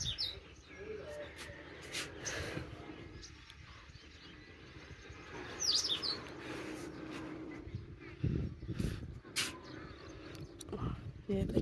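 Small birds chirp on and off from a rooftop, light scattered tweets mixed with a few coos and other household noise, while people talk nearby.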